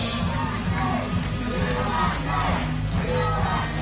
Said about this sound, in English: Here they are, big cheer there.